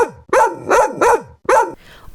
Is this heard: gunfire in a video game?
no